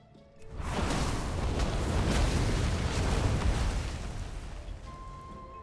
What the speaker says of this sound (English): You just throw Meteor, pop your combustion, do 2 Fire Blasts, Pyroblast, plus Fire Blast into Pyroblast